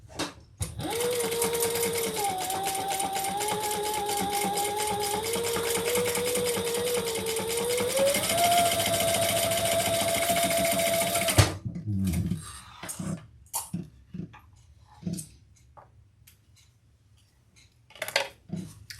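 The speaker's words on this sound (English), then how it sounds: "let's sew those together. The same seam allowance" A sewing machine sews a seam joining the lining of a bag, giving a loud continuous rapid stitching whir that changes speed slightly for about eleven seconds. It then stops, leaving scattered fabric handling and clicks.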